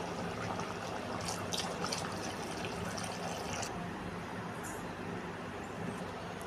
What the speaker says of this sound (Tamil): தேவையான அளவு தண்ணி சேர்த்துக்கலாம்